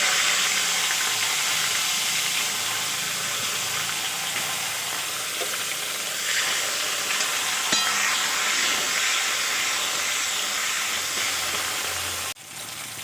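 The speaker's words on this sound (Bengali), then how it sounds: "এবার আমি দিয়ে দেবো কেটে রাখা টমেটো" Chopped tomatoes hit hot oil seasoned with cumin seeds and asafoetida in a pan, giving a steady close sizzle and hiss that continues evenly, with a brief clatter near the end.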